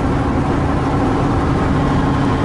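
A van drives along an open road through Nebraska, a steady loud engine drone and road roar that holds constant with no breaks and no talk.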